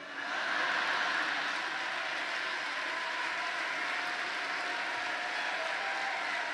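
Dense, sustained applause and cheering from a large convention crowd at a National Urban League event in New Orleans, a continuous wash of clapping at even loudness with no speech over it.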